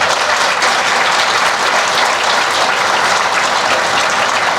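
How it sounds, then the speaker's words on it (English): Audience at a military change of command ceremony applauding for the Swinson family, a dense, loud, sustained wash of clapping from a large crowd. "Please join me in a round of applause for the Swinson family"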